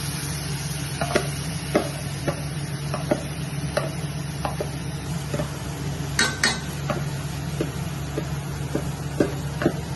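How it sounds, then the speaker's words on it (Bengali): Marinated chicken sizzling in fried spice masala, a steady frying hiss under regular clicks and clinks of a spoon stirring in the pan, close and fairly loud. "এবার আমি এই ম্যারিনেট করা চিকেনটা এতে দিয়ে দিচ্ছি।"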